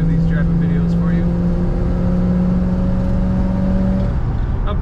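A 1972 Dodge Charger SE cruises down a dry road, its engine giving a steady, loud drone with constant road noise throughout and no clear changes in pace.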